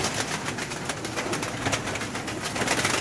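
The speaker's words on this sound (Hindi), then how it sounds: "टैडी कबूतर देखते हैं, उम्मीद करते हैं कि टैडी भी आप पसंद आएंगे" Pigeons of a fancy teddy breed coo in a steady, close, continuous murmur with soft overlapping calls and no voices.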